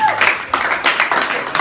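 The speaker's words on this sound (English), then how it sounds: "Give me a round of applause." Audience applause at a magic show after a card trick, a short round of clapping from the crowd, with a voice talking over it.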